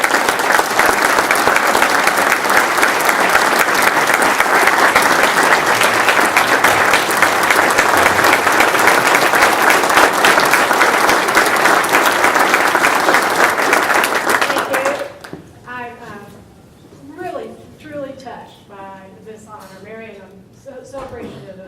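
Audience applause at a June 2013 President's Awards Day ceremony, congratulating award recipient Beth Short: loud, dense clapping from a large crowd for about fifteen seconds, then cutting off as a voice begins speaking.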